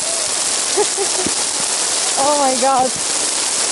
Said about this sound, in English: Now hard rain started, so we have to hurry up.